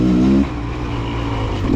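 A 2024 Beta two-stroke dirt bike engine revs close by on a wooded trail, a loud buzzing tone that holds high, dips briefly, then climbs again across under two seconds.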